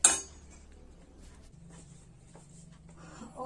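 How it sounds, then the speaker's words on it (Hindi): A hot kadhai holding cooked vegetables is handled and tipped into a serving bowl, giving a sharp metallic clink at the start, soft scraping and clatter through the middle, and more clinking near the end. "इस कढ़ाई को मैं डोंगे में सब्जी पलट दूंगी"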